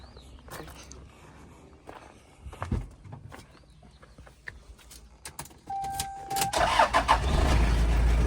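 A 1998 Toyota Hilux Surf turbo diesel cranks briefly and catches, then settles into a loud, steady diesel clatter close by, preceded by faint footsteps and small clicks.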